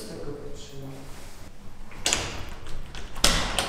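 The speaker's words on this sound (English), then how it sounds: "Not a living soul behind the door and" A locked hotel door is tried, giving a couple of rattling knocks and thuds from the handle and frame against a noisy indoor background.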